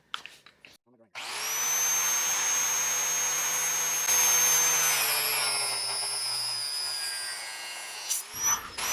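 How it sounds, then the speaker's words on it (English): Electric cutter wheel cutting through a bucket fork clamp: a loud, close, high-pitched whine starts after a second and holds steady for about seven seconds, then fades as the wheel spins down, with brief clatter at the edges. "So I am going to cut it with my cutter wheel."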